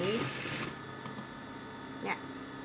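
A sewing machine stitches a folded fabric hem, a brief mechanical whir at the start that fades to a low hum while someone talks close by.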